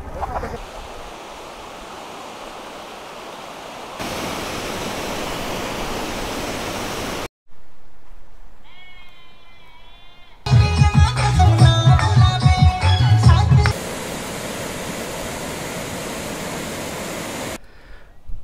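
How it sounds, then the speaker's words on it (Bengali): Water rushes at a dam in Chakradharpur, Jharkhand, as a steady, loud broadband roar with wind noise. It is cut into several segments, with a short break and a middle stretch that holds tonal, music-like sounds. "সত্যি মন ভালো করে দেওয়া একটা ড্যাম"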